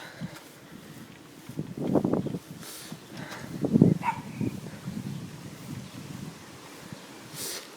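Wind gusts buffet a microphone outdoors on a cold, sunny day, giving low rumbling bursts that swell around two and four seconds over a steady breezy hiss.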